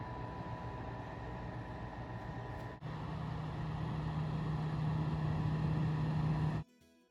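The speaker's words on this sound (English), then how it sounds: "the more it ran, the more the motor was being used, it seemed to kind of pick up some volume" Katchy insect trap motor running steadily alone, a constant low hum with a slight shift partway and cutting off near the end.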